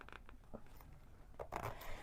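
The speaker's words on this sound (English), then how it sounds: "I'm going to go ahead and add my zipper pull." Soft clicks and brief metallic scrapes of a zipper pull being fitted onto a fabric pouch's zipper, a few quick taps followed by a denser rustle near the end.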